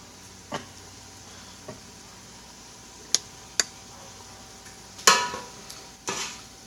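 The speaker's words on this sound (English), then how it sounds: "All right, we got some sizzle going on now." Vegetables sizzle in a pan while cooking rice, a low steady hiss beneath several sharp metallic taps and scrapes from a utensil stirring, with no speech.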